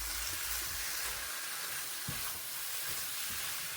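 Curry gravy sautéing in a pan, a steady, fairly quiet hiss of sizzling with an occasional soft stir or knock, with no one talking.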